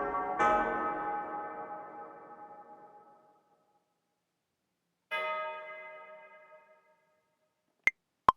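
A bell-like synth tone for a hip hop beat plays two sustained phrases that ring out and fade, each a chord struck and left to decay, followed by two sharp clicks at the end.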